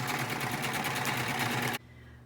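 A sewing machine stitches across fabric for a face mask in a fast, steady mechanical whir for about two seconds, then stops abruptly, leaving a quiet room hum.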